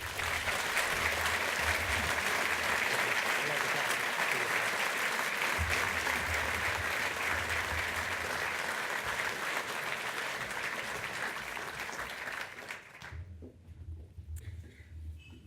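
Sustained audience applause fills a hall after a business leadership talk, steady and dense for about thirteen seconds before breaking off into quieter room noise with a few scattered claps.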